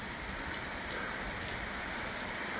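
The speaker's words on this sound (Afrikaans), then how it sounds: "dit reën te lekker" Steady rain falling on a bushveld farm at Ellisras, a dense, even hiss of drops on surfaces that continues unbroken throughout, with no voices.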